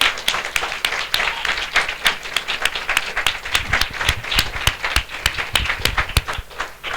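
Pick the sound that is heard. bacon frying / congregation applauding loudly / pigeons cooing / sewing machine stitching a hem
congregation applauding loudly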